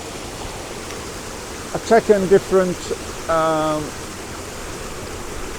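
River water streams steadily around a photographer's legs as he stands in a shallow, slippery river at Scale Force, a constant close rushing hiss that continues under a man's brief speech.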